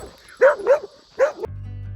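Dogs barking outdoors along a hiking trail at Lake Red Rock, three sharp woofs in quick succession, fairly close, followed by a brief low rumble.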